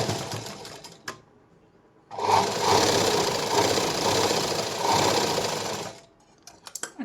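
A domestic sewing machine runs steadily for about four seconds, close and fairly loud, stitching a 1 to 1.5 inch hook strip onto a lined blouse, with quieter handling noises before and after.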